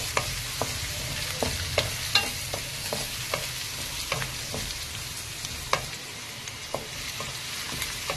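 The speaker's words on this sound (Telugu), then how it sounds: "ఒక పెద్ద సైజు ఆనియన్ కట్ చేసుకున్నామండి. కొంచెం కరివేపాకు, ఇది కొద్దిగా వేపాలండి" Chopped onion and curry leaves fry in hot oil with a steady sizzle, while repeated sharp scrapes and clicks of a stirring spoon against the pan sound at an irregular pace throughout, with no voices.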